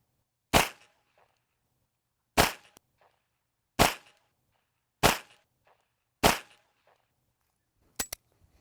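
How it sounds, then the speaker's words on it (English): Five pistol shots fired double action, evenly spaced about 1.3 seconds apart, each a sharp loud crack with a short ringing tail, followed by a faint metallic click or two. "So this is my first 5 shots from double action, the first one."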